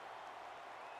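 A stadium crowd in a college football video game roars and applauds in a brief, steady swell, moderately loud but somewhat distant, with no distinct voices.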